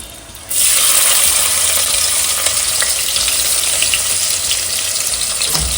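Onion drops into hot oil and a loud, sudden sizzle bursts up half a second in, then holds as a bright, steady frying hiss to the end.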